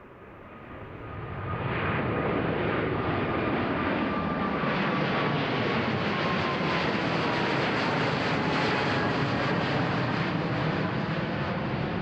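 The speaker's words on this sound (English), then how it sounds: "lined up on the runway, we got a Boeing 777-300 from Garuda, Indonesia, going to Jakarta" A Garuda Indonesia Boeing 777-300 jet on the runway at Amsterdam Schiphol, its engines spooling up from a rising whine into a loud, sustained roar heard from a distance, with a faint tonal whine over the steady rumble.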